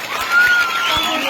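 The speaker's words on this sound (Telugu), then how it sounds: "big claps" Crowd applause at a drug awareness programme in Andhra Pradesh, a short burst of clapping from a hall audience that swells and then settles, with a voice over it.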